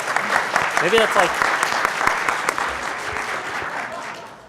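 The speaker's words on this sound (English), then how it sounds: "You guys should clap for everybody who draws something." A convention panel audience at PAX East claps for a participant's drawing, a burst of applause that gradually fades while a voice speaks over it.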